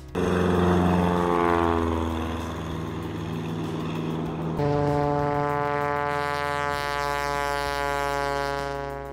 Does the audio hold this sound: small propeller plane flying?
yes